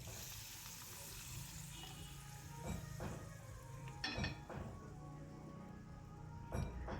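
Coconut milk poured into a pan of cooking pabda fish, a soft steady sizzle and simmer with a few clinks and stirring knocks from utensils against the pan, no talk.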